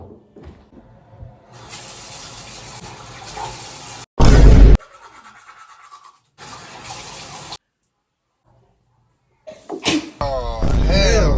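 A single loud, sharp sneeze bursts out amid kitchen sounds of running water and clatter, with voices talking around it.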